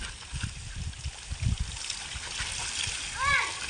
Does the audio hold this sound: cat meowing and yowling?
no